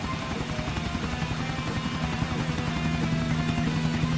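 A helicopter flies in the video game GTA IV, its rotor beating in a steady, loud, close thrum that holds without a break.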